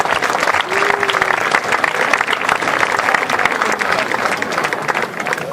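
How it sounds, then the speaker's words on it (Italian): An audience at a literary and songwriting awards ceremony breaks into loud, continuous applause, a dense and close wash of clapping with faint crowd voices underneath. "Allora Grazia, io ti faccio fare un altro applauso perché è meritatissimo."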